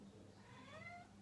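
An indoor cat on a bed gives a single drawn-out meow that rises and falls, soft and fairly distant over a quiet room hum.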